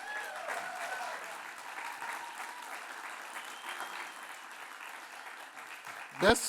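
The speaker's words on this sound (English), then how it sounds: "let's give them a huge round of applause" A conference audience gives a round of applause to people asked to stand, at a Google Day event; dense, sustained crowd clapping, moderately distant in a large hall, ending with a sharp close thump.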